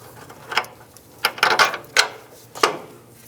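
Metal bolts handled and started into the front upper control arm of a 2005–15 Nissan Xterra, a few sharp clicks and scrapes in irregular bursts, close and fairly quiet, with no talking.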